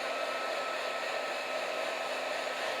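A hair dryer blows steadily on wet paint on laser-engraved glass, a constant close, loud whooshing hum with no breaks.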